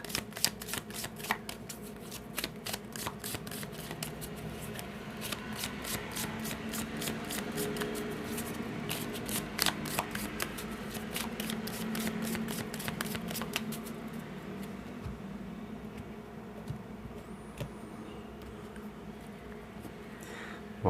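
Tarot cards of the minor arcana are shuffled by hand in a quiet run of rapid, papery riffles and flicks that continues steadily, then thins out near the end.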